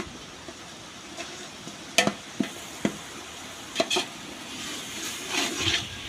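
Tomatoes fry with salt in a large pot for mutton biryani, stirred with a ladle. A soft, steady sizzle runs beneath several distinct scraping and clanking knocks from the stirring.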